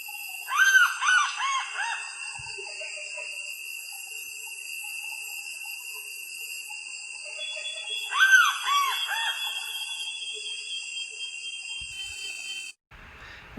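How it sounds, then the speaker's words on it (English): A Sulawesi bird gives two loud bursts of harsh, maniacal, screaming calls several seconds apart, shrill rapid cackling notes over a steady high-pitched insect drone. "written by David Bishop, described their calls as maniacal, blood-curdling screams. So I'm going to give you some calls here to judge for yourself"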